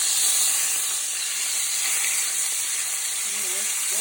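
Skirt steak sizzles in a pan over medium heat, a steady close hiss running continuously without break, with no talking.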